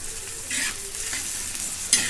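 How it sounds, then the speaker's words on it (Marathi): Garlic paste and chilies sizzle and fry in a pan, a close, steady hiss with a few stirring scrapes over it. "आणि परतताना यांच्यात थोडीशी लसूणची पेस्ट टाकून घेते आणि मिरची"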